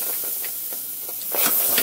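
Tomato sauce being stirred into freshly toasted rice in a hot pan for Spanish rice, with steady hissing steam and sizzle under soft scraping strokes, swelling louder near the end.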